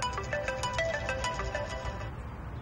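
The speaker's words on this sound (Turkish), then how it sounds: "Ah telefonum çalıyor." A mobile phone rings close by with a bright electronic melody of repeated tonal notes over a steady low background hum, fading slightly toward the end.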